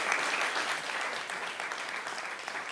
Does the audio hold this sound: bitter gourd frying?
no